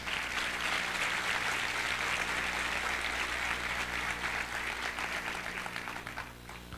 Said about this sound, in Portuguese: Uma salva de palmas para a Larissa.